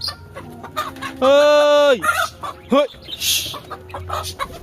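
Chickens squabble up close, with a loud, drawn-out squawk followed by shorter, agitated clucks, and a faint voice nearby.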